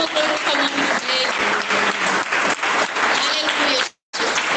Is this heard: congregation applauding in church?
yes